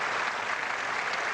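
A crowd at the Cook Convention Center in Memphis applauds the winner of the 1981 ABC Masters bowling championship, a dense, steady, loud burst of clapping throughout.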